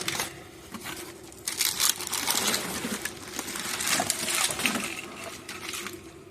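Mystery box of parts for a 1975 Super Beetle being opened by hand, with close crinkling, rustling and cardboard scraping, plus small knocks and rattles of packing and contents, moderately loud and continuous with no talking.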